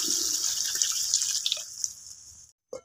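Water pours into a pan of rui fish jeera curry as a steady splashing trickle that thins to drips, then stops abruptly, followed by a brief splash, close and without talk.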